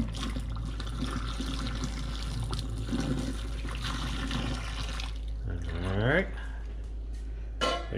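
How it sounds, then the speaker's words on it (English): Boiling water is poured down a smelly drain treated with baking soda and vinegar, a steady splashing pour that ends in gurgling draining sounds, with someone talking throughout. "All right, so it's time for the boiling water."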